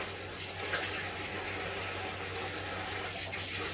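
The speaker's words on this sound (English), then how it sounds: "Just wash my hands." A kitchen tap runs steadily as hands are rinsed under it, a soft continuous rush of water at an even level throughout, with no voices.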